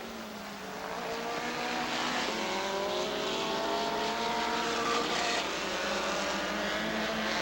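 Race cars roar around Rockford Speedway in a dense, continuous pack, several engines overlapping with rising and falling pitch as they circle the oval, loud and sustained throughout.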